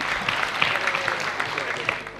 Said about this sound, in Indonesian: Tepuk tangan untuk Bu Haryono